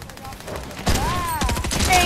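Gunfire in an online shooter game, a burst of rapid synthetic shots starting partway through and continuing close and loud over a quiet background, with game sound effects mixed in.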